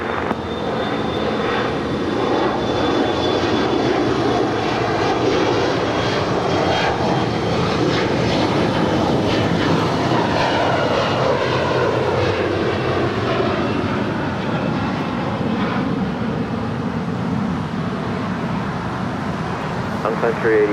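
A SkyWest jet rolls for takeoff on runway 25 right at LAX, its engines a loud, steady roar that holds for the full stretch, with a faint rising whine and a voice talking underneath.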